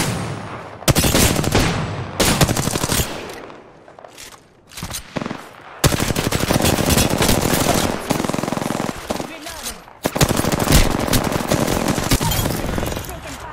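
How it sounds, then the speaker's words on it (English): Rapid gunfire in an online shooter video game, aimed at the player: loud, dense bursts of automatic fire in several long stretches separated by short lulls, with someone talking briefly in between. "Listen up, I'm getting shot at."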